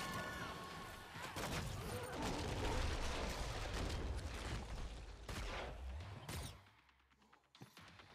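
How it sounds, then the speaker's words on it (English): Rapid bursts of heavy hand cannon gunfire in Killing Floor 2 crackle and boom in a dense barrage, loud and close, before tapering into scattered shots. "Those hand cannons really do work on those sirens."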